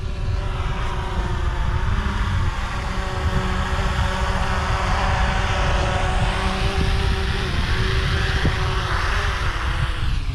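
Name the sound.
drone flying overhead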